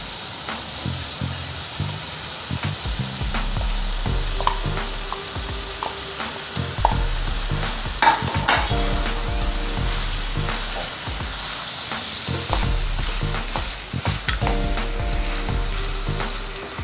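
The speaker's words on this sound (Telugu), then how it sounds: "దీన్ని ఇప్పుడు బాగా మగ్గిన ఈ వెజిటబుల్స్లో ఈ రైస్ని వేసుకున్నాం" Cooked rice is stirred into sautéed vegetables for vegetable fried rice, a continuous sizzle with frequent rhythmic scrapes and knocks of a spatula against the pan throughout.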